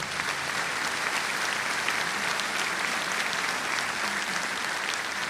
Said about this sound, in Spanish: Esos aplausos, por favor,